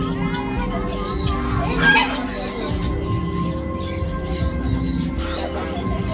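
Birds call and cluck, fowl-like, at a hidden bird-watching spot near Nashik, with repeated calls over a dense, busy background and a louder burst early on.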